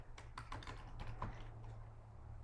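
Quiet, rapid keystrokes on a computer keyboard, a cluster of taps followed by a few sparser presses over a low background hum.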